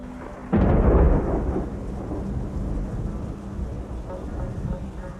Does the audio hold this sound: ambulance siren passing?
no